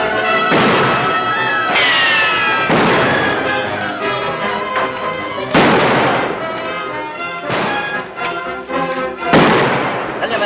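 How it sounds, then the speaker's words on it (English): Gunfire rings out in a Hopalong Cassidy western, with repeated loud shots and reverberant blasts over a dense, noisy battle soundtrack, close and continuous with brief gaps. "Tell your men to stop firing."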